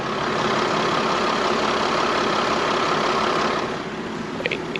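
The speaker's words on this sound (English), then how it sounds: "Quiet diesel. I got it running right now." A Mercedes 3-liter V6 diesel idles steadily in a 2011 Itasca Navion 24J mini Class C motorhome, a constant close rumble that stays even throughout, with a couple of faint clicks near the end.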